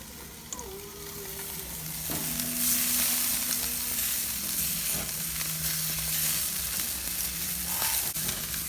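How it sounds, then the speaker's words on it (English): Marinated chicken pieces sizzle steadily on a grill, a continuous close crackling hiss with a few faint tonal hums beneath, and no talking. "As they're grilling, just baste them a little bit"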